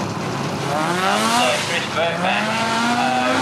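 A Skoda rally car is driven at the Race Retro event, its engine rising and falling through gear changes in clear revving sweeps, loud and fairly close, while a commentator talks over it.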